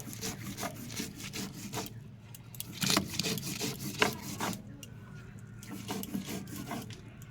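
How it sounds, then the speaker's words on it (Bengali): Garlic and onion pieces being ground on a stone slab, a dry rhythmic rubbing and scraping of stone against stone that repeats in close, steady strokes with brief pauses. "আমি এখানে শিলে বেটে নিচ্ছি"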